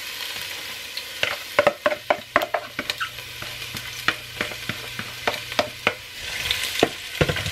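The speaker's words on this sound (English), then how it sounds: "I'm just gonna saute these for 2-3 minutes" Bell peppers and onions sauté in a hot pan for puffy tacos, with a steady sizzle under repeated sharp stirring scrapes and clacks of a utensil against the pan, close and clear, no talking.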